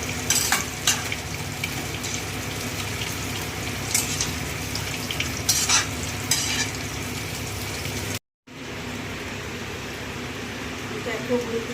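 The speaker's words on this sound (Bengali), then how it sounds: "ঢাকা দিয়ে দিয়ে কিছুক্ষণ আবার নাড়বো" Malabar spinach cooking with prawns in a pan, a steady sizzle with repeated stirring clatters, briefly broken by a short silence before a quieter bubbling hiss continues.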